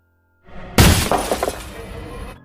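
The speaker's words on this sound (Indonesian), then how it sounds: "terdengar suara lemparan batu dari luar yang memecahkan kaca jendela rumahnya" Window glass shatters from a thrown stone, one loud sudden crash at close range followed by a spray of tinkling shards falling for over a second, with no voices.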